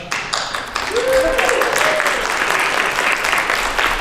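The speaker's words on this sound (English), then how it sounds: "we want to really applaud them" An audience at a launch-day panel event applauds as panelists leave for lunch, producing sustained, dense clapping that fills the room, with a voice speaking briefly underneath.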